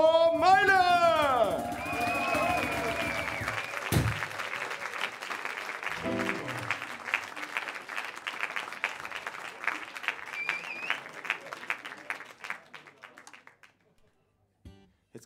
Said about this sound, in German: Jetzt kriege ich die Show-Applaus, ich habe noch gar nicht gespielt.